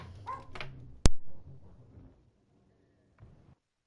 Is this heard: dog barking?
yes